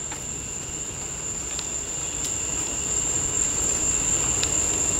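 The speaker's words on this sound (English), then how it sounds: "And you can hear the cicadas." Steady high-pitched cicada drone at night along a bayou in Houston, constant and unbroken, with a low rumbling background underneath and faint occasional clicks.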